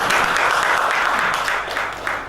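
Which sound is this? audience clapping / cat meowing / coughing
audience clapping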